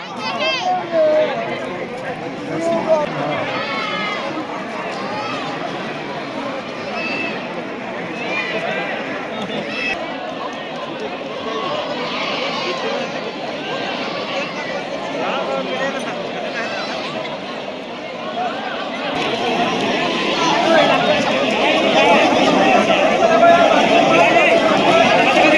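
Devotees crowd the Nirai Mata temple grounds in Gariyaband, Chhattisgarh, producing a steady wash of chatter, children's voices and movement that grows louder toward the end.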